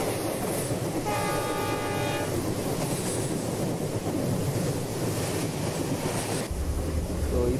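A train led by a WDM 3D diesel locomotive on the Rameshwaram to Kanyakumari Express rumbles steadily in a train simulator, with a horn blast partway through over continuous loud rolling noise.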